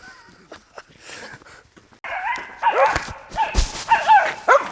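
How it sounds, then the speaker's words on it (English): Territorial dogs on a rural Kentucky road bark and yip repeatedly, near and loud, in sharp bursts that build after a quieter start with scuffing footsteps. "These dogs don't give up."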